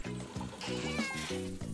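A cartoon-style cat meows in a short, tonal call that repeats in rhythmic bursts, close and clear, over a steady backing of music.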